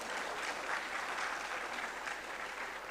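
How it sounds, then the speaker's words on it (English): Steady applause from a conference audience at the World Petroleum Technology Congress 2022, greeting Dr. B.S. Negi; even, continuous clapping heard faintly and at a distance. "A round of applause for Dr."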